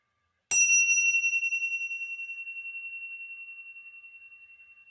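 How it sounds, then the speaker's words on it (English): A single bell is struck once and rings out with a clear, pure tone that slowly fades, pulsing gently in the silence. "Throughout our time together, I will ring the bell."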